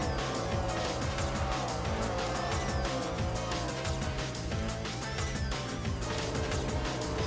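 Sprint cars wrecking on a dirt track at Charlotte during a Lucas Oil Sprint Car Series race, a loud continuous roar of racing engines with crashing and scraping into the wall, the sound steady and dense throughout.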